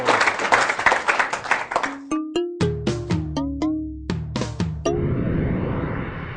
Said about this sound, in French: Nous applaudissons la République démocratique du Congo.